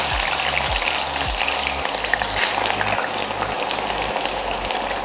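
A batch of elephant foot yam pieces deep-frying in oil, a dense, continuous bubbling sizzle that stays loud and close throughout, with a low humming tone underneath.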